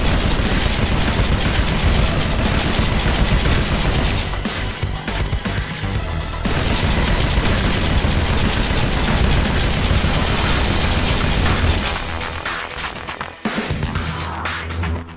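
The T-25C Spiker in Halo: Reach fires in sustained loud bursts of rapid shots, with brief pauses in between.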